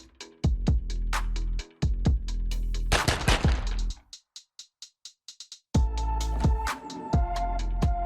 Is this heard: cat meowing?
no